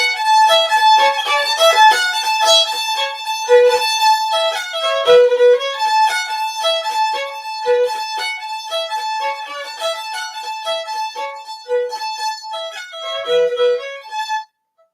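Bagpipes play a lively march tune, a variant of its fourth part with a hemiola, in a continuous run of bright ornamented notes over about fifteen seconds before stopping abruptly.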